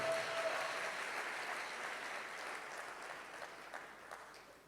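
A congregation at a French-speaking Christian church service applauds in a steady, dense patter of many hands that slowly thins and fades toward the end, moderately distant.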